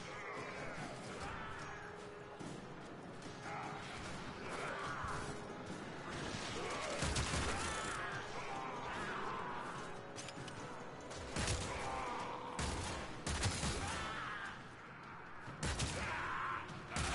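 Weapon fire in Warframe plays as a steady stream of repeated shots with clanks and impacts over a dense, busy game mix of effects, spread across the whole stretch.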